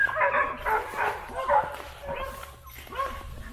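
Several high yips and short whimpering cries from young dogs, fairly close, coming in uneven bursts with a low rumble underneath.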